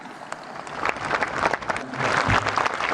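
An audience applauds steadily for about three seconds at the inauguration of the Prime Minister's new Seva Teerth office, the dense clapping swelling slightly louder toward the end.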